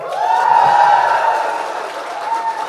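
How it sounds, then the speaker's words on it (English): A live audience claps and cheers at a Bengaluru comedy show, a dense, loud wash of applause that swells early, then eases, with crowd voices mixed in. "for everyone to clap when they get that screen"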